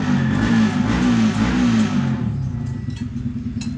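Car engine revving as the vehicle pulls in, a loud droning rev that rises and wavers, then eases into a lower idle rumble with faint clatter.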